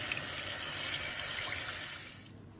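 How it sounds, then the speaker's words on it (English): Running water rinses fresh wild garlic leaves, a steady close hiss of a kitchen tap splashing over greens that carries evenly before easing off at the end. "So first thing I'm going to do is just rinse these leaves."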